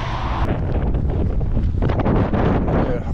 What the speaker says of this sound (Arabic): ريح قوي في الصدر مباشرة